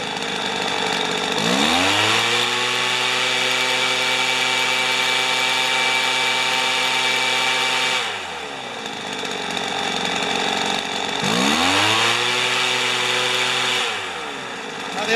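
A Weed Eater leaf blower's small two-stroke engine during a carburetor tune-up, loud and close, revving up from idle to a sustained high whine, dropping back briefly, then revving up again.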